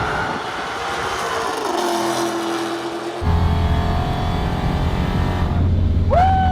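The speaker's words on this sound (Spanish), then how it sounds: "estos motores Hemi suenan brutal" A Dodge Demon 170 with a supercharged Hemi V8 roars loud and close, its revs dropping, then surging to a sustained heavier growl, ending with a rising whine.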